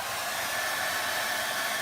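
Hair dryer blowing steadily on antiquing glaze over wet DIY paint, a close, even whoosh of airflow holding at constant loudness throughout with no talking.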